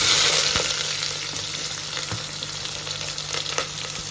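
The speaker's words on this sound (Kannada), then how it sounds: "ಸೊ ಎಣ್ಣೆ ಕಾದಿದೆ. ಸೊ ಇವಾಗ ಸ್ಪೈಸಸ್ ಹಾಕ್ಕೊಳ್ತಾ ಇದ್ದೀವಿ." Spices and onion fry in hot oil in a pan, giving a steady bright sizzle with occasional stirring knocks and pops, close and continuous with no talking.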